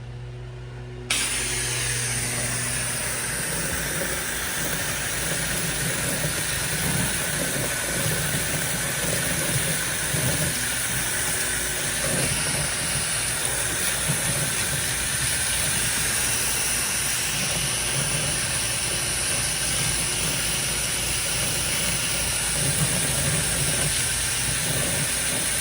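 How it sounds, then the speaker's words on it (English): A pressure washer's X-Jet high pressure rinse sprays steadily during roof washing, a loud continuous hiss and rush that starts abruptly and holds unbroken throughout. "I use the X-Jet as a high pressure rinse tool."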